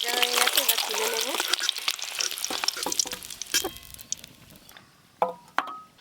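Eggs frying in a pan, coated with turmeric and cooked until crinkled: loud close sizzling and stirring that fades away, followed by a few sharp clinks of utensils.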